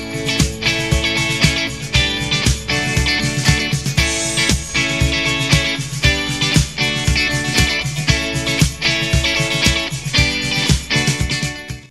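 Two electric guitars playing harmony lines together on a rock riff, dense and driving with steady rhythmic picking, loud and close throughout with no talk.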